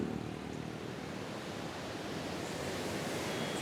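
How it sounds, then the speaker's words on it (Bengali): Water gushing from an open gate of the Kangsabati dam at Mukutmanipur, a steady, dense, roaring rush heard up close, unbroken and with no voices. "যেটা থেকে জল ছাড়ছে"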